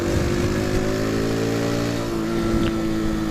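A 2015 Sinnis Trackstar 125cc motorcycle being ridden through corners around Sussex, its engine a loud, steady droning hum that holds close and constant, dipping slightly in pitch partway through.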